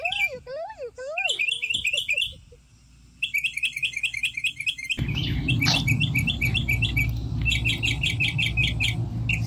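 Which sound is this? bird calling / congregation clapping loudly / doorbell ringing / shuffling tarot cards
bird calling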